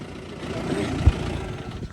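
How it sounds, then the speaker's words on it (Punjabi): A tractor engine driving past in a farm field during sugarcane planting, with a steady, low-pitched rumble that rises slightly in the middle and stays constant for the full two seconds. "ਉਹ ਤਾਂ ਹੀ ਟਰੈਕਟਰ ਜਾ ਰਿਹਾ ਭਾਈ ਉਹ ਦੇਖ"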